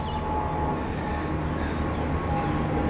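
The Stone Mountain Park tram near Atlanta, Georgia, carrying riders up and down the mountain, gives a steady low mechanical rumble with a faint tonal hum and a brief high hiss partway through.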